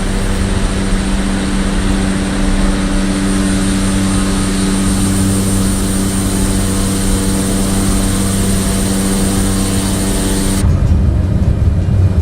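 Fixed-gear propeller airplane in Microsoft Flight Simulator climbing after takeoff, a loud steady engine and propeller drone with a sudden shift in tone near the end.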